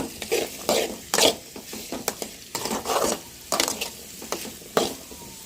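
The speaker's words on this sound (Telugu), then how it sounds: "కింద అడుగంటకుండా ఇంక ఇలా మొత్తం కలిసిపోయేలా తిప్పుదాం" Repeated scraping and stirring of beetroot fry in a pan, a rhythmic series of sharp scrapes with a faint sizzle underneath, close by.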